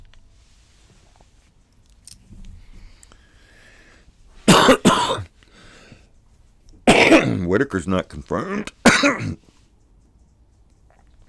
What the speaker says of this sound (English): when I cough, it really hurts